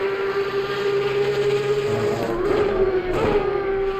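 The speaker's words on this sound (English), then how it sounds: "listen to the lovely engine" Porsche race car engine in Assetto Corsa Competizione at the Red Bull Ring, a steady high-pitched drone holding near-constant revs with slight pitch shifts, loud and continuous with no talk.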